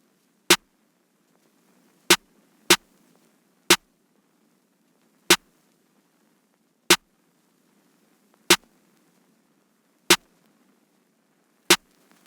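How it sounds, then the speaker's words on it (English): Basic programmed trap snare pattern with counter snares in FL Studio: nine sharp, crisp isolated hits at uneven spacing over near silence, loud and dry, no voices. "I just have a basic one here with some counter snares"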